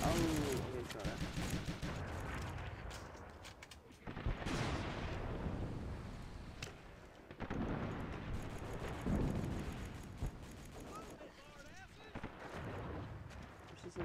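Gunfire in the video game IronStorm, with repeated shots and bursts of fire and rumbling blasts throughout, under a player talking.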